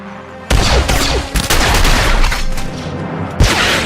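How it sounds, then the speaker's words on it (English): Rapid blaster fire from Star Wars: The Old Republic on Alderaan, dense overlapping shots and booms crackling loudly and continuously for several seconds with no talk. "I don't think blasters are going to get us through here"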